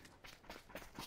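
Enemy footsteps in PUBG, heard as a quiet run of soft, rhythmic steps with no talking over them.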